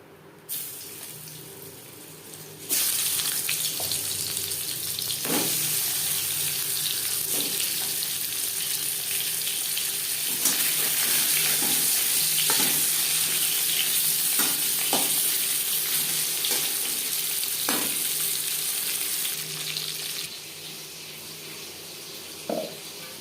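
Pangas fish frying in hot oil, a loud broad hiss that starts abruptly and holds steady, with scattered pops and spatters, fading near the end, close and without talk.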